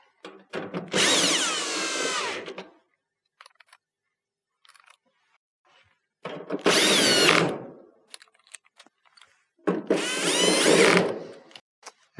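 A power drill drives three screws into the back panel of a Whirlpool dryer, three loud separate whirring bursts of about two seconds each with quiet gaps and small clicks between them.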